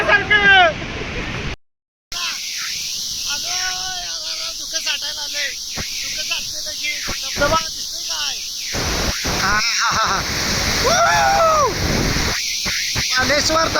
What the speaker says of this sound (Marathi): धबधबा हा घे धबधबा